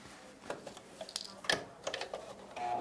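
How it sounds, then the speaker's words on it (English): A sewing machine stitching down a pipe cleaner on a five-layer fabric face mask, quiet irregular ticking and whirring bursts of stitching with small clicks, faint and close. "We're now going to sew down our pipe cleaner."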